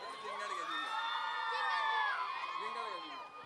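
A crowd at a children's dance performance cheers and whoops loudly, with overlapping shouts and squeals forming a continuous excited roar that swells in the middle.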